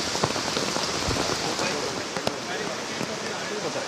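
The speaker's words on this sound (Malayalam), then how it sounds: "2 മണി പിന്നിട്ടതോടെ വീണ്ടും മഴ കനത്തു" Heavy rain pours steadily during floods at Aranmula, a dense, continuous hiss with close drops spattering on surfaces throughout.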